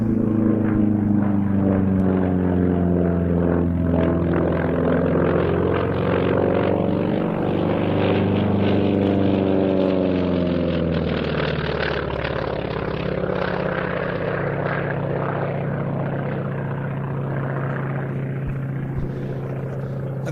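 A monoplane propeller aircraft flies past at the Duxford air show, its engine drone loud and sustained, shifting in pitch as it passes overhead and slowly fading away.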